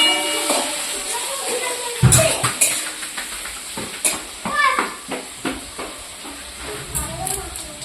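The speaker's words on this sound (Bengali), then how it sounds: "পেঁয়াজটা ভাজা হয়ে গেছে, দিয়ে দিচ্ছি আদা রসুন পেস্ট।" Onions frying in a pan for a spicy mutton curry, with sizzling and stirring scrapes under it and the clatter of a utensil against the pot, close by, while people talk intermittently.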